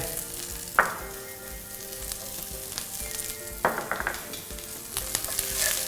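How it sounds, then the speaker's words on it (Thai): Mushrooms stir-frying on high heat for a vegetarian Shanghai-style basil dish, with a continuous close sizzle broken by clanks and scrapes of a spatula stirring in the pan, and no talk. "ผมจะผัดเห็ดด้วยไฟแรงเนี่ยเพื่อให้เห็ดเนี่ยมัน มีกลิ่น หอมบางอย่าง"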